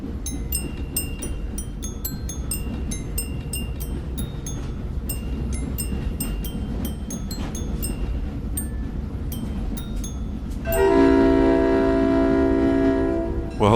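Train rumbling along with wheels clinking over the rails, then a loud sustained horn blast near the end that stands above the steady running noise.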